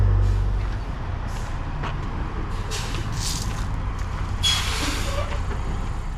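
Truck with a racing car trailer running steadily, a continuous low engine rumble with bursts of air-brake hiss on top, fairly close and loud, no talking.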